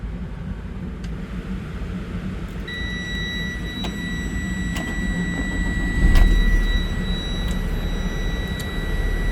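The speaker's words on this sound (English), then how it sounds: "So let's turn it on." The engine of a 2020 Freightliner M2 Grech GM45 bus runs at a steady idle with a low rumble just after switch-on, while thin dashboard tones and periodic ticks sound over it and the engine swells briefly.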